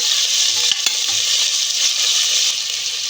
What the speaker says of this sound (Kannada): ದಪ್ಪ ಈರುಳ್ಳಿ ಹಾಕ್ಕೊಳ್ತಾ ಇದ್ದೀನಿ ಚೆನ್ನಾಗಿ ಆಯಿಲ್ ಎಲ್ಲಾದರೂ ಫ್ರೈ ಮಾಡ್ಕೊಳ್ಳೋಣ